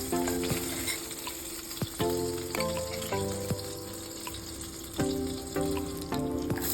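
Salisbury steak patties browning in a pan with a steady close sizzle, broken by several sharp scrapes and clanks of a utensil against the pan, no voices.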